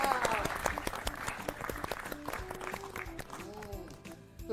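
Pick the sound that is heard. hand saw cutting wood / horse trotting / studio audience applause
studio audience applause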